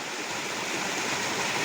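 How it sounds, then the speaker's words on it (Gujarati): Waterfall in Ratanmahal Wildlife Sanctuary, a steady broadband roar of falling water that holds unbroken and fairly loud, with no voices over it. "આ જો આખો ધોધ."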